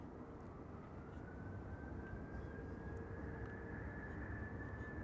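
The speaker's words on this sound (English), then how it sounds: "And this is K1231 to Göteborg, spooling up, coming this way." A Boeing 737-700 at Amsterdam Schiphol spools up its jet engines for departure from runway 36L: a low, distant, steady roar under a faint whine that climbs slowly in pitch.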